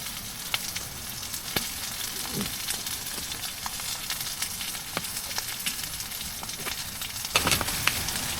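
Two beef drumsticks and mushrooms frying in a pan inside a hot tent, a steady quiet sizzle with scattered pops and small clicks, a few louder crackles near the end.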